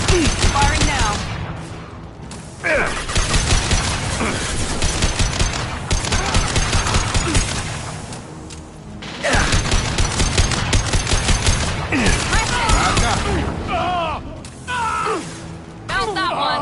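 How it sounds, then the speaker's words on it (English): Bursts of rapid gunfire from a firefight in the sci-fi shooter Mass Effect, dense repeated volleys with brief gaps around 2 and 9 seconds, loud and close, with shouted voices in the mix. "Firing now."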